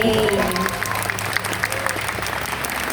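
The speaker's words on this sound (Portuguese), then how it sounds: "Aí, gente, uma salva de palmas também." Audience applause at a live anime convention panel with voice actors, a dense, steady wash of clapping from a large crowd that holds at an even level throughout, with some musical tones underneath at the start.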